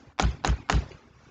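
Three firm knocks on a door in quick even succession, close and loud, with no talking over them, heard as part of a told children's story.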